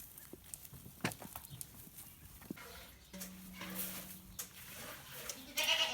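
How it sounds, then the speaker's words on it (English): Goats bleating on a small farm, a few calls rising over shuffling, hoof-like clatter and outdoor background noise. "You guard those goats."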